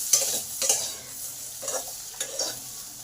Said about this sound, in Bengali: আলুগুলো আমার ভাজা ভাজা হয়ে গেছে